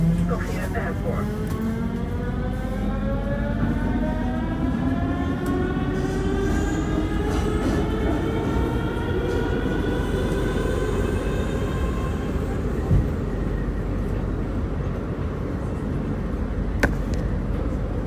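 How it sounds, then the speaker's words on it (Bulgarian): A Sofia metro train runs between stations, a steady loud roar of wheels and motor with rising whine tones and occasional squeals, heard continuously from inside the carriage. "Както виждате, пътуваме във влакът."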